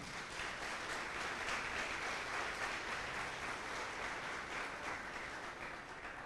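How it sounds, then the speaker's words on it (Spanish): Congregation applauding in a church during a Spanish-language sermon: a dense, steady wash of many hands clapping at an even level from start to finish, with no break. "Denle un aplauso al Señor por eso."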